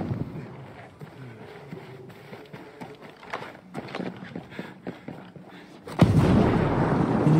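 Gunfire in a sniper video game: quieter irregular thuds and clicks build to one sudden loud blast, which trails off into a sustained rumble.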